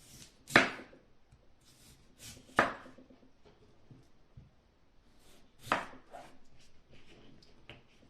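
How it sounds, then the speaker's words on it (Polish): Knife cutting potatoes into centimetre-wide strips for oven-baked potatoes, several sharp, separate chops on a board spaced a second or two apart, close and clear with quiet gaps between them. "Nasze ziemniaczki kroimy mniej więcej na centymetrowe paski."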